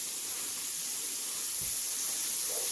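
Cube steak sizzles in a frying pan with a soft, steady hiss, faint and close, with no talking.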